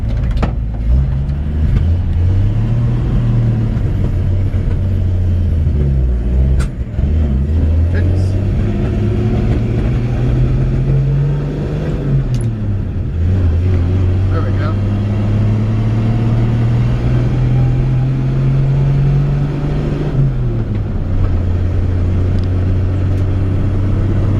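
A 1954 Chevrolet 5-Window pickup truck running and driving on a cold morning: a steady, loud engine drone that rises and falls as it accelerates and shifts through gears, with someone talking over it.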